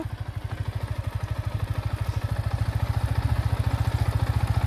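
A motorcycle engine runs close by during a beginner's first riding lesson, a steady rapid low thumping pulse that rises slightly in loudness as the bike moves along.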